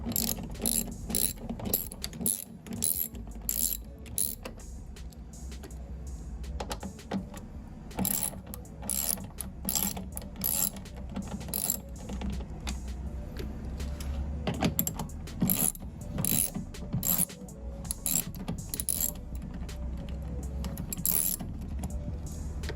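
Ratchet with a 10mm socket loosening a speaker mount in a Toyota Tacoma, repeated close clicking bursts of the pawl in uneven runs with short gaps, steady and moderately quiet throughout.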